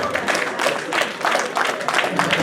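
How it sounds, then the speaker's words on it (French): A crowd at an election gathering of the Alliance de Daloa en France association claps loudly and steadily in a rhythmic burst of applause. "On l'applaudit très très très fort."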